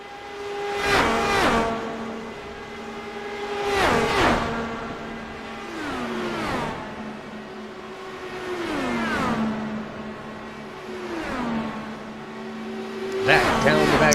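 IndyCar race cars in a racing video game on the back stretch of the Auto Club oval, with engine tones that rise and fall in pitch as they pass repeatedly, steady and close under commentary.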